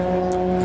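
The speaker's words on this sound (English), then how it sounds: "There goes the BMW in the background." A BMW race car at Snetterton circuit during a club race, its engine a steady droning tone held through a brief moment, fairly loud.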